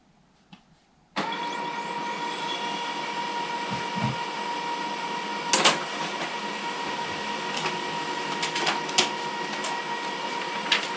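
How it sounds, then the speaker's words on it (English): An office printer starts up abruptly and prints a full A4 shipping label, making a steady mechanical whirr with brief clicks and clatters from the paper feed, close and unaccompanied by speech. "when this prints, it'll come out of this printer rather than our normal label printer."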